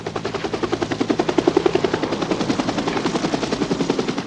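Helicopter airlifting mortally wounded soldiers to a field hospital in Vietnam, its rotor blades thudding in a steady, fast rhythm, loud and close, with no talk over it.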